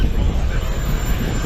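A radio-controlled model airplane flies at a 2022 Joe Nall RC fly-in, its engine giving a loud, steady droning roar that fills the whole stretch.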